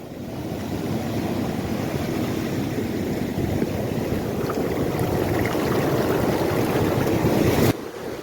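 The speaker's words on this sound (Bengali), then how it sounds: "বিশাল বড় বড় ঢেউ আর সেরকম হাওয়া।" Rough sea at Puri beach: big waves surge in a continuous heavy roar mixed with strong wind buffeting the microphone, loud and steady throughout with no talking, dropping slightly near the end.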